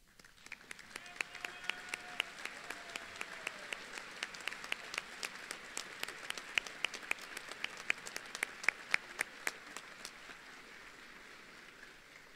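Audience at a technical college winter commencement ceremony applauding faculty and staff, a steady patter of many hands clapping for about ten seconds, fairly distant and soft, then trailing off.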